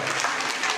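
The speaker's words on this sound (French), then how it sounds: "vous avez compris que la première dame d'Atour, c'est Célia, qu'on applaudit également très fort" A crowd applauding at a local community event, a dense, steady wash of clapping hands filling the whole brief moment without pause.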